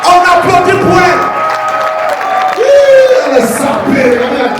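A crowd applauds and cheers at a live comedy night, with steady clapping and whoops mixed with loud voices and talk over the top.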